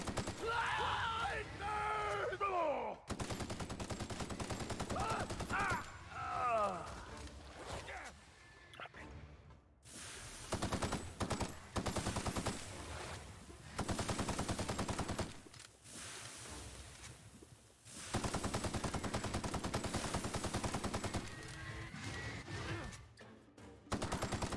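Rapid-firing weapon in The Outer Worlds, a sci-fi shooter video game, rattling off long bursts of gunfire broken by short pauses, loud and close, with someone speaking French over parts of it.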